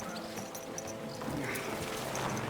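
Horse hooves clop on the ground in Kingdom Come: Deliverance II, a few soft, close steps over a steady wash of outdoor game ambience.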